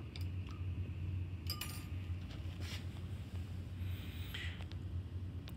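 Calcium sulfate powder stirred into water in a glass beaker, giving scattered faint clinks and taps of the stirrer against the glass over a low room rumble.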